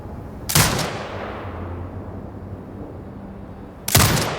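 Turret gunfire in the video game Sniper Ghost Warrior Contracts 2: two loud, sharp blasts a few seconds apart, each followed by a lingering rumbling decay.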